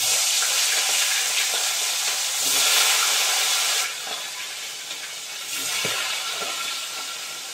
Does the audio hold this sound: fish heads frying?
yes